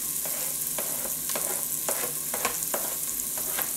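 Chopped onion and garlic sizzle in very hot lard in a pan, a steady bright frying hiss broken by repeated sharp crackles and scrapes of stirring, close and fairly quiet.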